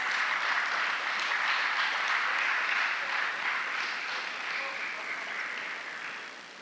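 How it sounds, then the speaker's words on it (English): Steady audience applause at a student awards ceremony, a dense, even wash of many hands clapping that holds for several seconds and eases slightly near the end, with no talk over it. "Please applaud these students."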